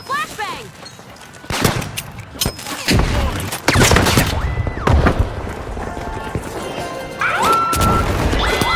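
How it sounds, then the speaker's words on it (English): Flashbang thrown during a team video game match that is down to its last player: a burst of crashing, gunfire-like bangs and sharp impacts over nearly nine seconds of dense, loud game action, with a commentator's voice likely mixed in. "Throwing a flashbang!"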